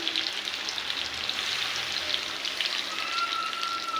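Chicken kosha sizzling in a pan as water goes in, a close bright hissing sizzle that carries steadily with a faint crackle and a brief whistling tone near the end.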